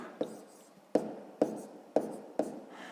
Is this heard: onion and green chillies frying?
no